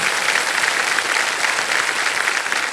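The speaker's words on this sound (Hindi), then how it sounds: "तालियां बज जाएं इनके लिए।" Steady, continuous applause from a TV quiz show studio audience, loud and sustained throughout with no talking.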